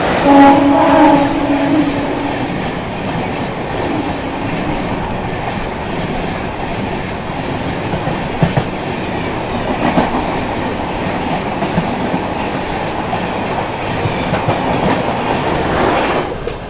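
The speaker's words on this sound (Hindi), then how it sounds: "सामने से आती है 15716 अजमेर किशनगंज गरीब नवाज एक्सप्रेस।" The 15716 Ajmer Kishanganj Garib Nawaz Express passes close by in India, a loud continuous roar and rumble of rail cars with clattering wheels, a brief horn near the start and no speech.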